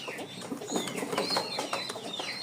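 Pigeons coo in a small homemade coop, a pair perched above with a chick inside; soft, close calls repeat steadily with faint chirpy notes, and no talking.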